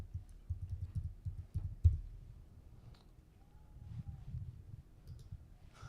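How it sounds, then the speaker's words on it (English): Soft keys click in quick irregular runs on a computer keyboard as a password is typed, close and quiet, with a pause in the middle before more taps. "I gotta type in all the password again."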